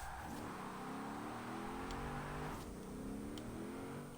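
A 1992 Toyota Supra 2.0 GT engine revving in the Forza racing game, a steady rising and falling mid-pitched engine drone with layered harmonics, continuous and prominent throughout with no talk.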